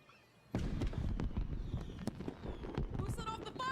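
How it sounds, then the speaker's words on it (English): Fireworks going off in the video game Honor of Kings: a burst of dense popping, crackling and booming bangs starts suddenly and continues with sharp repeated cracks and whistling tones, while voices talk over it. "Who set off the fireworks?"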